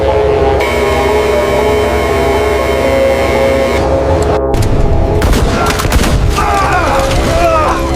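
A single loud gunshot cracks inside an aircraft cockpit during a hijacking, a sudden burst breaking through a steady engine drone, followed by rumbling, clattering aftermath.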